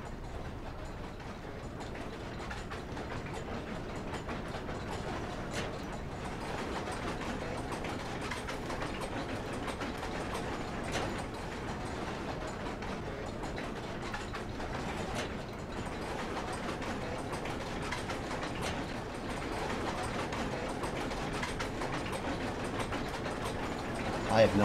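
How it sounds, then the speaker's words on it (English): Lever-controlled noisy machine in the horror game Amnesia: The Dark Descent, a steady grinding, ratcheting mechanical rumble with gear-like clatter running continuously at moderate level. "Two levers control the noisy machine."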